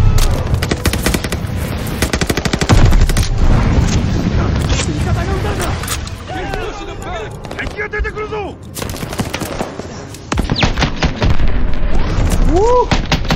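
Rapid bursts of gunfire and booming blasts, including a thrown-back grenade exploding, in a World War II firefight in the Call of Duty Vanguard campaign; dense, loud and continuous, with voices talking over the shooting.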